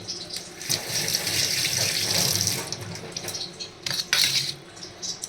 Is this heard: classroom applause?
no